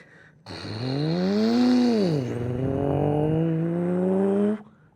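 A voice imitates a car's ignition, starting and driving away with a continuous buzzing engine drone that swells, dips and holds for about four seconds.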